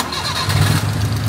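A vehicle engine under repair at a street workshop in Bangkok's old Talat Noi quarter starts and runs, a loud mid-pitched rumble that swells and holds near at hand.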